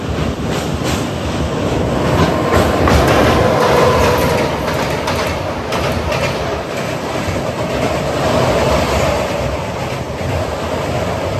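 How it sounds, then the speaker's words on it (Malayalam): A superfast express from Chennai to Bhubaneswar rushes past close by as a steady, loud roar of wheels and rails with faint clickety-clack, heard from another passing train, with no talking. "ഇപ്പോൾ പോയത് ചെന്നൈയിൽ നിന്ന് ഭുവനേശ്വർ പോകുന്ന ഒരു സൂപ്പർ ഫാസ്റ്റ് ആണ് ഇപ്പോൾ"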